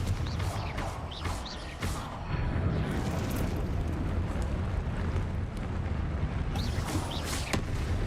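Confringo fire spells bursting in Hogwarts Legacy combat, a sustained roaring, rumbling blast of fiery noise with several sharp cracks on top, loud and dense throughout, with no talking.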